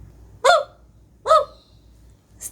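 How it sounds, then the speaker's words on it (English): Two loud, sharp hiccups, about a second apart, are followed by the start of a third, each a brief voiced gulp over near silence. "Pete still has the hiccups."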